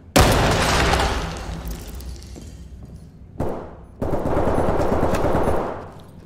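Loud bursts of automatic rifle fire in the tactical shooter Ready or Not, with one long close volley, a short pause, then another sustained burst ringing in an indoor office space.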